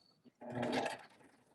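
A Baby Lock sewing machine runs in a short, brisk burst as it stitches over a seam in an elastic waistband, preceded by a couple of faint clicks, fairly quiet and close.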